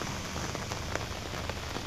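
Heavy rain pours steadily during flooding in Banda, a dense continuous hiss of drops hitting surfaces, loud and even throughout with no voices.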